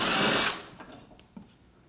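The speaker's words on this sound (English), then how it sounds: "I've got a 12 millimeter socket on my gun." Impact gun fitted with a 12 mm socket zipping a throttle body bolt loose on a Honda Civic: one loud half-second burst up close, then a faint tail and a small clink.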